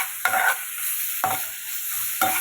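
Gongura chutney ingredients softening in a pan: a soft continuous sizzle broken by three spaced spatula stirs, each a brief scraping burst, close and alone without talk.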